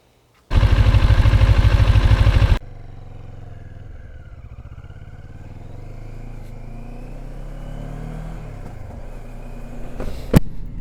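A Moto Morini 6 1/2 motorcycle's engine gives a loud, dense roar for about two seconds, then settles to a lower, steadier hum that gradually builds as the bike rides off. A sharp click comes near the end.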